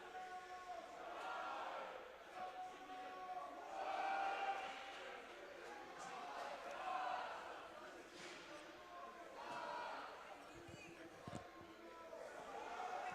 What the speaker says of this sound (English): the Texas fans are doing some Texas fight chants in the stands